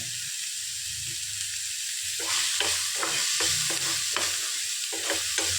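Vegetables sauté with salt in a pan: a quiet sizzle at first, then a spoon begins scraping and stirring in quick, repeated strokes over a louder, steady frying hiss.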